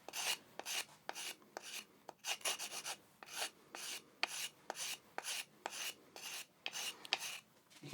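A hand file rasps against the cutting edge of a spade drill bit to sharpen it, producing a series of close, quiet, rhythmic scraping strokes with short pauses between them.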